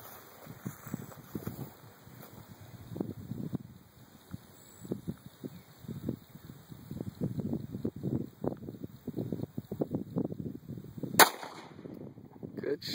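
A single sharp gunshot rings out outdoors as a cantaloupe is shot, a loud crack late in the moment after a stretch of wind noise and low rumbling handling sounds.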